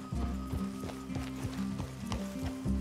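Horses trotting in Red Dead Redemption 2, a steady clip-clop rhythm of hooves close by over a low music bed, with an occasional snort.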